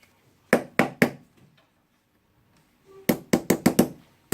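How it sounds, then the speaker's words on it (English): Sharp knocks on a stuck part of a Bosch GDR 18-Li 18V cordless impact drill being taken apart: three quick raps, a pause, then a faster burst of five, close and loud with no talk. "I will try to knock it"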